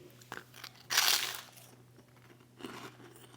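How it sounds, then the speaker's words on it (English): Fried pork rind chicharrones crunch in a few bites and chews close up, with one loud crackling burst followed by a softer crunch a moment later. The room is otherwise quiet with a low background hum. "I already know the crunch is going to be great"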